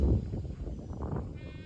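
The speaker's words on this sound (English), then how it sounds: "that's my boar goats that are yelling at me" Boer goats on a farm bleat loudly in a rough, wavering call at close range, with farmyard background noise.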